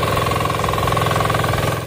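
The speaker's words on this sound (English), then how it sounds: "Equipped with a 6-horsepower diesel engine, this multifunctional machine is ideal for preparing soil for planting." A tillage machine with a 6-horsepower diesel engine runs steadily up close, making a loud, fast, rhythmic chugging knock throughout.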